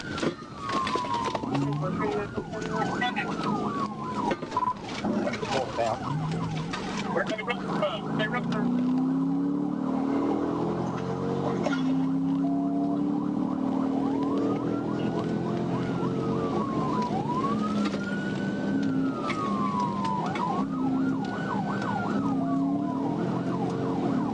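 A police cruiser siren wails in repeated rising and falling sweeps during a highway chase on northbound 71 in Arkansas, over steady road and engine rumble, loud and close throughout.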